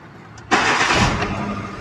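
A Hyundai i10 with a shift solenoid fault starts up with a sudden burst of cranking that catches at once. The engine settles into a steady, close idle with no talking over it.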